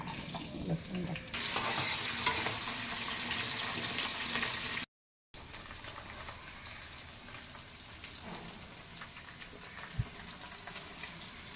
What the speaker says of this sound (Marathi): आपण या भाज्या फ्राय करून घेऊयात आधी थोडं तेल टाकलंय